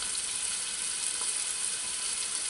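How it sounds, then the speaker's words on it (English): Food sizzling in hot oil in a pot while cooking chicken tortilla soup, a steady close crackle and hiss with no voices. "something so gratifying about hearing, you know, your foods hit that hot oil"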